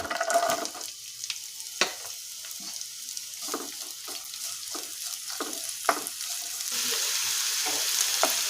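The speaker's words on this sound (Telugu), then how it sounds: "ప్యాన్ పెట్టుకొని ముందుగా ఆయిల్ వేసుకుందాం తర్వాత ఉల్లిపాయ ముక్కలు వేసుకొని ఫ్రై చేసుకోవాలి" Onion pieces fry in oil in a pan as a soft hiss broken by stirring scrapes and clicks, the sizzle growing louder and steadier toward the end; no voices are heard.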